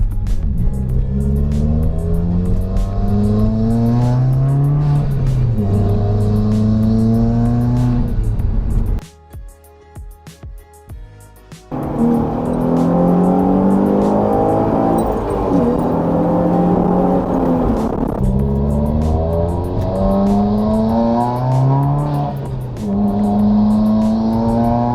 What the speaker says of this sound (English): I like the way it sounds. It sounds great.